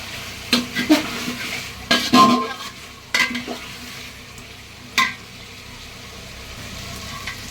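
Mutton pieces are stir-fried in a pan for mutton biryani: several spatula scrapes and pot knocks over a low, quiet frying sizzle, with pauses between strokes.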